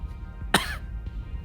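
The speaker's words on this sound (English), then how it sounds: "sort of coughs into her hand" A single short, sharp cough, close and clear, breaking through a quiet low background hum.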